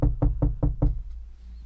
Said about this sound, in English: Knocking on the bathroom door.